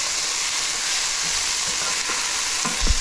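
Celery tipped into a hot frying pan for shepherd's pie, a loud, steady hiss of sizzling with a few stirring knocks near the end, no talk.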